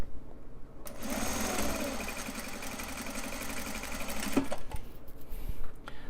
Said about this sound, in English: We're just going to stitch drawstring channels right now.